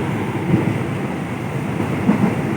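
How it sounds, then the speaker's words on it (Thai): Thai express train 168 running from Kantang to Bangkok, heard from inside the carriage as a steady, loud rumble of rolling wheels on rail with a few faint clicks over the track joints. "ตอนนี้อยู่ขบวนเร็วที่หนึ่งหกแปด ต้นทางสถานีกันตังไปทางสถานีกรุงเทพครับ"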